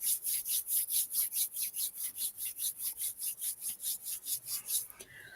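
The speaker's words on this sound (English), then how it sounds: "So rub your hands together." Palms rubbing briskly together in a steady back-and-forth rhythm, about twenty quick strokes, close and fairly loud, with no talking.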